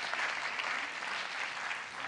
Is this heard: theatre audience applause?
yes